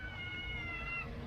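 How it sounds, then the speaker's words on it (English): Several cats meow around an outdoor table at feeding time while fish is being cooked, a steady, fairly close run of mewing calls over low background rumble. "Even the neighbor's cats came over to try to eat."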